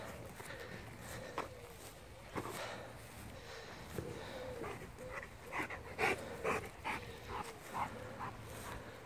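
A rottweiler in a field moves about close by, with soft sniffing, panting and rustling, plus a run of short, snuffly bursts toward the end, all fairly quiet and without clear talk.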